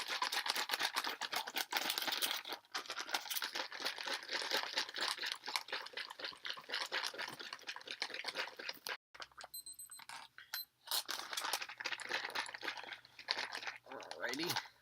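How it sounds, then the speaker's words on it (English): A sealed MRE pouch holding water is shaken to mix, giving a loud, close, continuous crinkling and sloshing rustle that pauses briefly and then resumes. "seal that zipper up good, and then shake to mix it."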